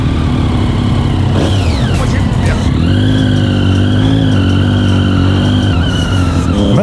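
A Triumph Daytona 675 triple sport motorcycle, a 2005-era model, roars along the road, its engine pitch sweeping up and down through gear changes before settling into a loud sustained drone with wind rush.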